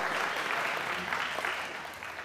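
A church audience gives a round of applause during a Sunday service: a thick, continuous patter of many hands at moderate volume, fading slightly toward the end.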